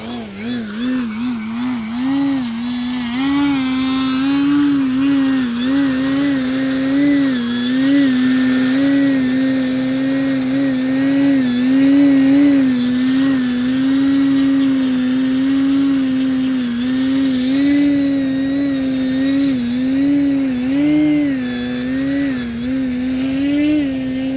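An E-Flite Night Timber X Evolution 1.2m RC plane on 4-cell power hovers with its electric motor, a steady buzzing whine that wavers slightly in pitch and stays loud and continuous.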